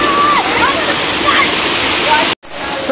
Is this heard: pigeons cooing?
no